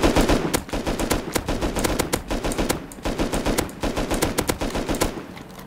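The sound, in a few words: LR-300 rifle burst firing in the video game Rust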